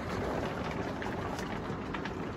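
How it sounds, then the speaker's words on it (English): Hail pelting down in a thunderstorm in Silverton, Colorado, a steady dense hiss of small impacts, loud and continuous throughout with no voices. "thunderstorm hail. Look at that."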